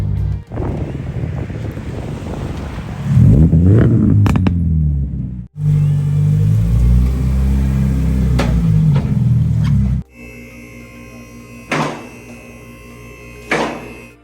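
A 2022+ Subaru BRZ or Toyota GR86 with a titanium aftermarket exhaust drones steadily while driving, heavy low rumble with wind buffeting, then a quieter idle with a couple of brief revs near the end.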